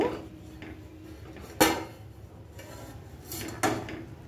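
A lid set down on a pan of semiya upma cooking over a low flame, two sharp metallic clanks about two seconds apart over a quiet kitchen background.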